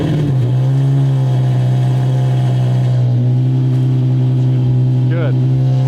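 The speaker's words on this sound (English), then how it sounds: "This car sounds so good on startup." A Lamborghini 550 with its original V12 fires up and settles into a loud, close, steady low drone, with a slight rise in pitch around the start.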